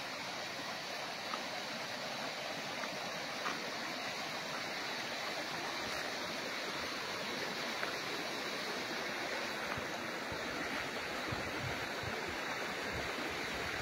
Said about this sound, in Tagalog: dito na po tayo ngayon sa tabi ng ilog